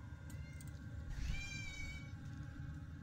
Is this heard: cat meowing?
yes